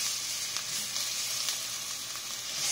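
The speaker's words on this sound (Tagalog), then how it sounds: "Lagyan na tayo ng oil, kaya ilalagay na natin ang ating sibuyas." Chopped onions sizzling in hot oil for a creamy chicken macaroni salad, a steady, close hiss of frying with faint occasional crackles.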